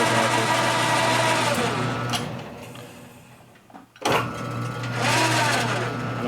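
A metal lathe runs in reverse while cutting threads during a 1942 Harley-Davidson WLA 45ci rebuild, giving a loud steady mechanical whir that winds down to near silence, then clunks and spins back up.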